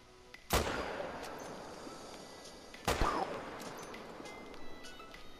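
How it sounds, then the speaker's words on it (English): Two sharp rifle shots ring out about two seconds apart while hunting fallow deer in New Zealand, each with a booming echo that fades into quiet outdoor air. "Pull off a double shot."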